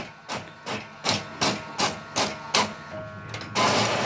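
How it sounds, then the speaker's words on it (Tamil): An Epson L15180 printer printing two pages thumps in a steady mechanical rhythm of about seven loud, close strokes, ending in a sustained whir as the paper feeds out. "ரெண்டு பக்கம் பிரிண்ட் ஆகி வந்துருச்சு"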